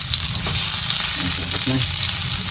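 Garlic sautés loudly in a hot pan for chicken adobo, a dense, close, continuous sizzle with faint stirring and no speech.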